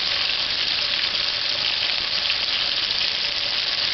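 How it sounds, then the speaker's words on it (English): Noodle-coated chicken frying in hot oil over medium-high heat, a loud, steady, close sizzle with no pauses and no voices. "Just allow that to fry on one side for 2 to 3 minutes."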